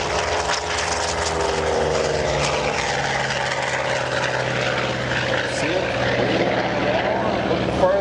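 A Hawker Sea Fury propeller warplane drones past overhead near a runway, its engine note shifting as it goes by, while a person talks over it.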